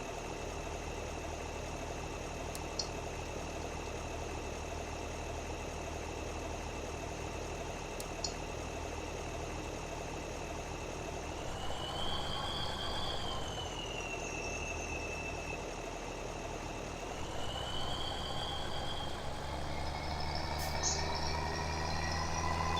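A tractor engine in Farming Simulator 17 idles and drones steadily for a long stretch, with a whining tone that rises and falls twice as the revs change, fairly close and constant.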